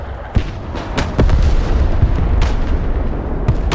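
Munitions explode on target in the Broken Arrow military strategy video game: a run of sharp booms and rumbling blasts, loud and dense, like an artillery barrage with repeated impacts.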